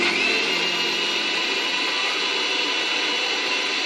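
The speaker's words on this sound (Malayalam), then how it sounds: "ഇനി നമുക്കിതൊന്ന് മിക്സിയിൽ അടിച്ചെടുത്തിട്ട് വരാം" An electric mixie grinder blends a homemade kulfi mixture flavoured with vanilla essence, giving a loud, steady, unbroken whir that stays at the same level from start to finish, with no talking.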